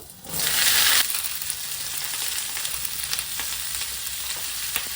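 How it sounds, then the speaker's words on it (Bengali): Sliced ridge gourd dropped into hot oil, already used for frying potatoes, bursts into a loud close sizzle, then settles into a steady crackling fry with faint stirring clicks. "এই তেলেতেই কেটে রাখা ঝিঙেগুলো দেবো।"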